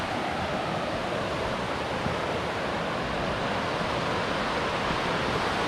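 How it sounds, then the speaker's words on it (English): A waterfall at Upper Lena Lake in Olympic National Park sends up a steady, dense roar of rushing water, loud and continuous without a break. "Check it out, waterfall."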